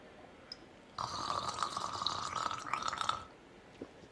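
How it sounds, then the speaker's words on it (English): Salt water gargled over a sink, a bubbling, rattling throat gurgle lasting a couple of seconds, close and fairly soft, with faint drips and a quiet room before and after. "And then you're just going to gargle a few times."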